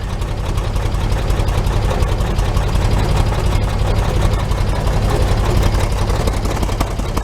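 A 1941 Chevy engine with freshly welded exhaust idles nearby, a loud, steady, even rumble with a regular low pulse and no popping, running alone without talk.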